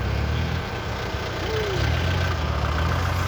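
A Singh tractor sits idling at a muddy field where another tractor is stuck, its engine a steady, close, low diesel rumble with a brief mid-range whine partway through and no talking.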